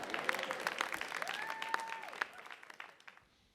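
A church congregation applauds during a French-language sermon, a dense wash of clapping with a sustained tone running under it, fading out toward the end.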